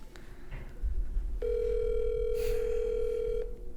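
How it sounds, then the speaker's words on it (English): A telephone ringback tone sounds on an outgoing call as one long, steady electronic hum lasting about two seconds. It is preceded by a soft click and line noise, and no one talks over it. "I'm going to phone a friend real quick."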